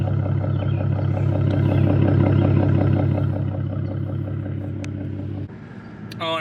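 A Ford Mustang with an H-pipe exhaust idles close by, a steady low burbling rumble with an even pulsing beat that fades slightly before a short shift near the end.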